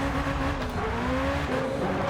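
A Ferrari Roma in Forza Motorsport at Lime Rock launches off the line, its engine note rising steadily in loud, close revs over a constant rumble.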